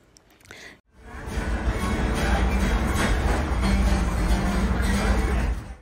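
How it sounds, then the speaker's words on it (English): The Grand Canyon Railway passenger train rumbles along the rails after a brief pause, a steady loud low rolling noise with faint clatter running continuously. "My mom and I really wanted to have the experience of riding this iconic train"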